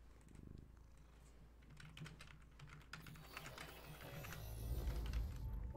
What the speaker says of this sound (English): I hope you can hear her purring. She's being very noisy today.